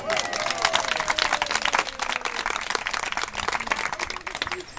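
An outdoor nature festival crowd breaks into applause, loud and dense at first, with individual claps crackling through and a few cheers mixed in.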